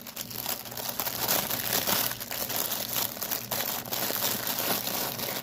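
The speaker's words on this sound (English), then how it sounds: "Crinkling." Plastic packaging from a Gorgeous Joy Sunday cross-stitch kit crinkles steadily and loudly up close, a dense continuous rustle of handled wrapping with no talking.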